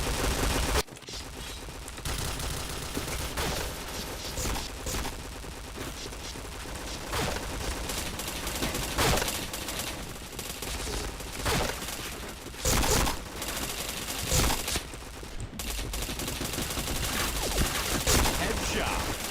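Gunfire in a shooter video game, rapid automatic bursts and single shots rattling throughout, dense and loud, mixed with game effects and occasional talking.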